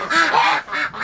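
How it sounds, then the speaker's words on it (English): Farm ducks let out of their pen call in a loud, close chorus of nasal quacks, with overlapping calls in two or three rapid bursts. "Ducks are coming out."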